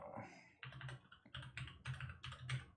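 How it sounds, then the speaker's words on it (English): Quick typing on a computer keyboard, a steady run of close, soft key clicks in short bursts with brief pauses between them. "I'm just typing in quickly like the Discord name and whatever."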